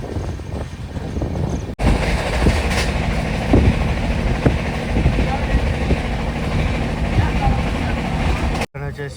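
Superfast express train running between Andhra Pradesh stations, a loud steady rumble and roar from inside the coach, with faint rhythmic clatter and brief dips where the noise cuts out.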